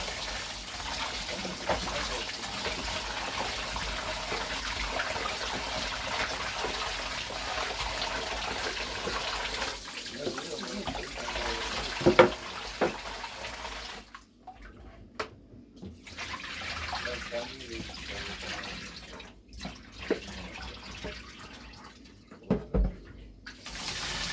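A kitchen tap runs steadily while meat is washed under it, a continuous close splashing hiss that briefly drops out twice. Someone speaks over the water.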